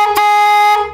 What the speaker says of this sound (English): We got ourselves an air horn.